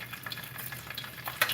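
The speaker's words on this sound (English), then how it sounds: "I'm frying the leftover dumpling from last night." Leftover dumplings fry in a pot with a steady, close sizzle and crackle, soft popping rising and falling throughout, with no talking over it.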